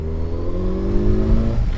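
A 2025 Kawasaki Ninja 1100 SX motorcycle engine pulls steadily under acceleration, a loud close drone with harmonics sliding smoothly in pitch before easing off.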